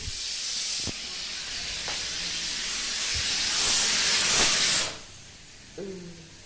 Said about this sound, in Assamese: কুকাৰ হুইচেল মাৰিলে চাগে